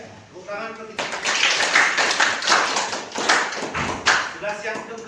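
A classroom group claps in a steady run of sharp, close hand claps under ongoing talk.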